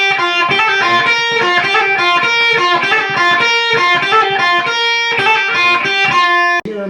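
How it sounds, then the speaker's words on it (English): Distorted electric guitar plays the fast second part of the solo, a continuous loud run of sustained, rapidly changing notes that cuts off abruptly near the end. "So the second part of the solo should sound like this."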